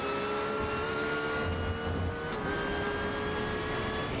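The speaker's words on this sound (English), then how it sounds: "you can hear the gravel crashing into the car" Race car engine in a racing video game at Autodromo Internazionale del Mugello, a steady high droning hum with a faint gritty wash of gravel hitting the car underneath, continuous and moderately loud with no talk.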